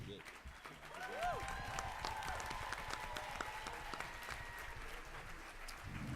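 An audience at a hip hop and politics event applauds after a performance, steady crowd clapping heard from a distance at a low level, with tonal music or voices ringing over it.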